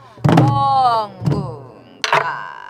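Three hard strikes on a Korean buk barrel drum in a traditional pansori drumming lesson, each a loud, resonant thump with a ringing tail, spaced about a second apart and heard alone.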